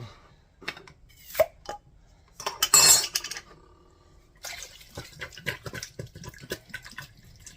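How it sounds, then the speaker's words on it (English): Home-canned potato soup and its liquid tipped straight from the can into a pan, with metallic clinks and knocks against the rim and soft sloshing and dripping in short bursts, then busier clattering toward the end. "So I'm doing all the juice, everything right from the can into our pan."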